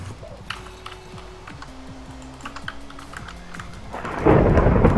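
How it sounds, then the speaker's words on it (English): Thunder in the video game Terrapuppercraft: a loud rumbling burst swells up near the end, after a stretch of game music with scattered keyboard taps. "Yes, yes, I heard the thunder before."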